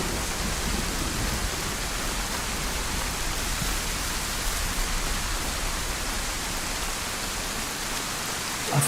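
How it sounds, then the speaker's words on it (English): Heavy rain in the DayZ video game, a dense, steady hiss of falling water that stays loud and even throughout with no voices. "I hope this isn't the new norm, this rain and thunder."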